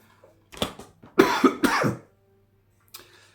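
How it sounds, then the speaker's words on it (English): A few close coughs from one man, a short isolated hack followed by a tight cluster of harsh bursts, then a faint trailing sound after a brief silence. "Me coughing now is a clear sign that I've been yakking for way too long."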